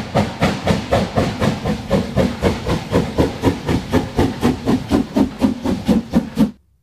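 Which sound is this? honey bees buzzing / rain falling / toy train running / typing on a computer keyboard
toy train running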